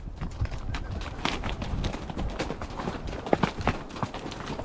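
Mule hooves clop unevenly on a rocky mountain trail as the ridden mule walks along, with scattered knocks and rustling close by.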